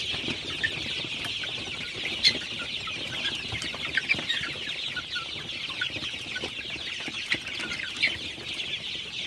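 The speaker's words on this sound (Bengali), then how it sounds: "সবগুলো মুরগি কিন্তু আসলে পানি খেতেছে।" A flock of 36-day-old Sonali super hybrid chickens clucking at night while drinking water on a farm in Faridpur, a continuous close chorus of overlapping clucks and chirps.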